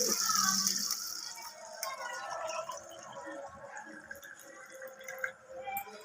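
Plain water poured by the glassful into a pot of coconut vegetable bagara rice gives a splashing pour at the start, followed by drips, light rattles of the glass and pot.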